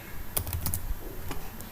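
Someone types code on a computer keyboard, with quick, close clicks of keys in short bursts and small pauses.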